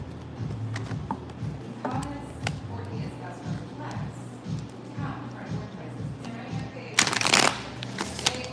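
A deck of cards shuffled repeatedly, soft riffling and tapping in an irregular rhythm under ongoing talk, ending in a louder, fluttering riffle near the close.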